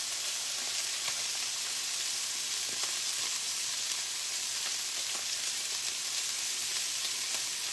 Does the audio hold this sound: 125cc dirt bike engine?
no